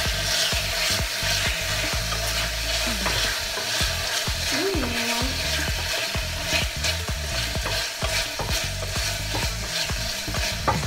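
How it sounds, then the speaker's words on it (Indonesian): A pan of goulash with tomato sauce is stirred, giving a continuous frying sizzle broken by frequent scraping and knocking strokes of the utensil, loud and close, with no voices. "aduk rata lagi guys"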